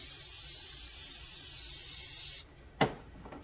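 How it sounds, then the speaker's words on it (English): Cooking spray hissing onto a jumbo muffin pan, one long steady aerosol spray lasting over two seconds, followed by a quiet pause and a short clatter or knock. "I'm going to spray this down real fast."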